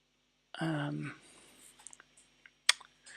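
A computer keyboard gives a few faint, scattered clicks and taps, with one sharper click near the end, following a brief murmured voice at the start.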